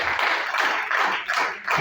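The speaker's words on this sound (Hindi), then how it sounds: "एक बार फोर्साज के लिए जोरदार तालियां बजाएंगे।" Audience clapping at a Forsage business seminar, a brief burst of hand claps pulsing in quick uneven waves, fairly close and loud with no speech over it.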